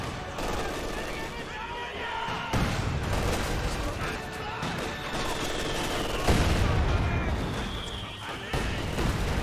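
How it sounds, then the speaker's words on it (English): A flak half-track in Company of Heroes 2 fires away in dense, rapid bursts amid scattered explosions and battlefield crashes, loud and continuous, with a voice talking over the gunfire. "we got the flak half-track firing away against this Pyrotechnic squad"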